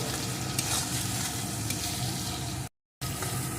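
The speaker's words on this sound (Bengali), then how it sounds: "এখন সমস্ত মশলাটা ভালো করে কষিয়ে নেব" Cumin paste, salt, turmeric and chilli powder fry in a pan, making a steady close sizzle with soft stirring scrapes. A short silent gap breaks the sound before the sizzling resumes.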